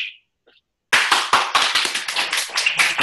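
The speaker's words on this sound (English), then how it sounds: "Please give a huge round of applause to Angad, can we have a huge round of applause" A small audience claps at an online data structures session, starting abruptly after a brief tone and silence and then continuing as a dense, close, steady burst of applause.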